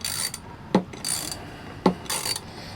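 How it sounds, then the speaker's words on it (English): A socket ratchet snugs down a nut on a standoff while building a hunting stick, giving bursts of fast ratcheting clicks broken by two sharp knocks, close and clear with no talk. "All right, snug it down, and then we'll snug this top one down too. We'll use the socket for that."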